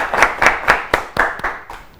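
A small group of audience members at an Ethiopian children's television show claps in slow, evenly spaced unison beats, about eight loud close claps fading slightly toward the end.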